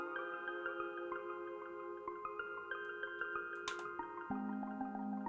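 Two Elektron Digitone synthesizer patches sequenced from an MPC One: sustained bell-like harmonic tones with bright plucked notes in a steady repeating pattern, a lower note shifting near the end, with no talking.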